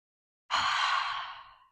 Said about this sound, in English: So I guess I'll just take a couple of deep breaths